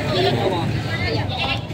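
A goat bleating at a livestock market in Padre Garcia, Batangas, a couple of wavering bleats mixed into a busy crowd with people talking nearby.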